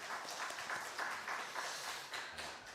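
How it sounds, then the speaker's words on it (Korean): A Sunday church congregation gives a brief round of applause, a soft, diffuse wash of clapping heard faintly at a distance for a few seconds. "하나님께 영광의 박수 올려드립니다."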